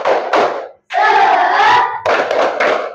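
A classroom group stands and claps a rhythmic chant-clap routine together, short bursts of loud unison hand claps punctuated by brief pauses, close and lively.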